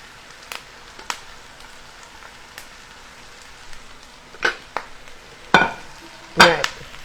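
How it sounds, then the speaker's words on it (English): Kale dropped into a hot pan with garlic and herbs sets off a few sharp, close rustling and sizzling bursts that grow louder toward the end over a quiet background hiss. "I'm just going to dump in all of our kale"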